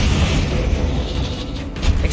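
A Bombarda explosion spell going off in the Hogwarts Legacy video game, a loud sustained low boom with rumbling debris filling the whole short stretch.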